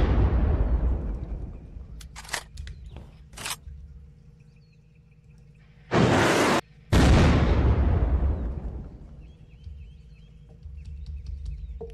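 Rocket explosions in the video game Unturned: a booming blast at the start that rumbles and fades, a few sharp pops, then two loud back-to-back bursts around the middle, each with a long decaying roar.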